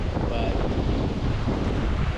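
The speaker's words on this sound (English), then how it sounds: "Wind is kind of tough here" Steady wind blowing across open water on a fishing outing, a constant roaring rush buffeting the microphone with no breaks.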